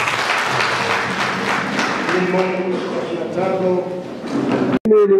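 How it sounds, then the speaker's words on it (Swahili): An audience claps at an evening fundraising harambee for a CCM party office building in Busokelo. The applause is loud and dense at first, then thins under a murmur of voices, and a sharp thud comes near the end. "Jamani, pigeni makofi"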